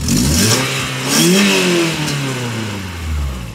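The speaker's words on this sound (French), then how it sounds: "Vas-y, fais voir quand tu accélères, parce que du coup, ça sort par des échappements de moto." A Peugeot 206 S16 engine in a sidecar motorcycle, venting through motorcycle exhausts, revs up and down repeatedly, a loud, close, raspy exhaust roar rising and falling in pitch, with no voices.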